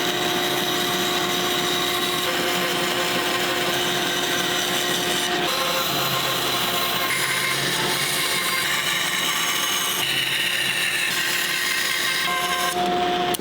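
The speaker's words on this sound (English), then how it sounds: "So I'm going to take this to the bandsaw, I'm going to take my cut here" A bandsaw cuts wood for a classical guitar neck with a loud, continuous mechanical roar and whine. The pitch of the blade shifts slightly as the cut moves through the timber.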